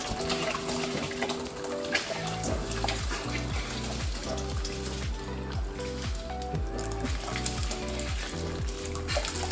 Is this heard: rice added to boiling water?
yes